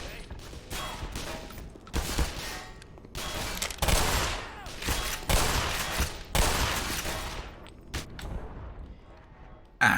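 Grenade blast and surrounding combat gunfire in the video game Black Mesa, a string of loud sharp bursts and booms in rapid succession across the whole stretch, with scattered chaotic battle noise between them.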